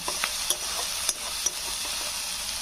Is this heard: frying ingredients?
yes